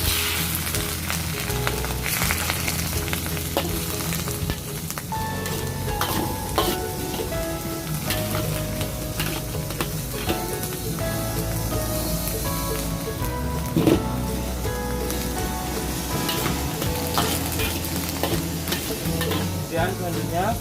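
Water goes into fried noodles in a hot wok, a loud continuous sizzle with stirring and scraping that carries on throughout.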